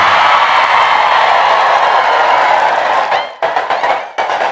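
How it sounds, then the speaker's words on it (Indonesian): An audience clapping at a humorous Islamic sermon, a dense, loud wash of applause that thins into choppy, scattered bursts toward the end. "Kau tepuk tangan"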